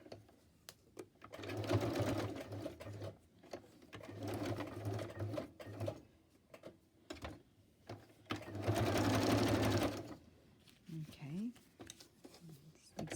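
A sewing machine zigzag stitches around a scrap of fabric, whirring in steady runs that stop and start, with a long fast burst near the end and a voice talking quietly between runs.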